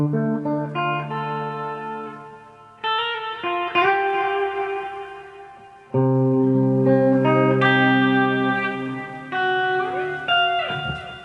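Clean electric guitar through a solid-state head and Mesa 4x12 cabinet: notes and chords ring out with delay repeats and a reverb tail, played loosely in bursts with brief pauses.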